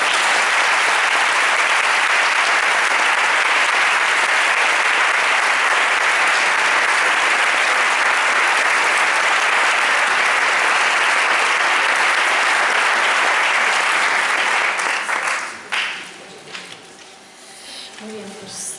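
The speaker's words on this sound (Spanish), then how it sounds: "un aplauso para todos ellos" Sustained, loud applause from a talk audience gathered for a speaker linked to the Stop Desahucios housing movement, dense and steady for about fifteen seconds before tapering off into scattered claps and room noise.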